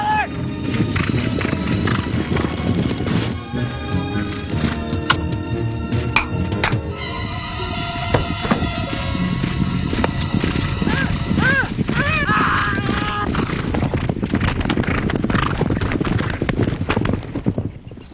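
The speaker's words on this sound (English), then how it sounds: "a crippled man was just trampled to death by horses." Horses trampling a crippled man in a 1985 ninja film, with a rush of galloping clip-clop hooves, repeated whinnies and neighs, and chaotic crashing over a dense, busy soundtrack.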